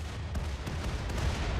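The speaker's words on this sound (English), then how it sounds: "our ships just fired again" Starship weapons firing during a RimWorld space battle: a quick series of sharp, muffled bursts over a dense, rumbling background, with no talking.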